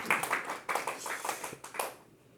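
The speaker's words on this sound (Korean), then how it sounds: "박수 받아야죠" Scattered applause from a small audience at a hi-fi listening session for a large Wilson Audio system, a burst of hand claps fading out after about two seconds.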